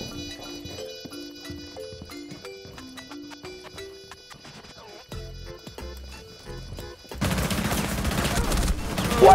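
Video game gunfire in a tactical shooter round, bursts of sharp shots over game music and effects, growing into loud continuous firing toward the end.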